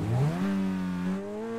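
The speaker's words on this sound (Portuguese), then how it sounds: "Só faltou ele ter aquele ronco de motor cabuloso." A red Ferrari-style sports car in GTA 5 revs its engine, a smooth harmonic whine that climbs quickly, then holds a steady high drone before easing slightly at the end.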